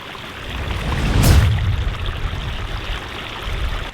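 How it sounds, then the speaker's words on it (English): Water from a pond waterfall cascades steadily down a constructed stream, a loud continuous rushing splash close by with a brief surge early on, no voices. "You see the water's cascading down there."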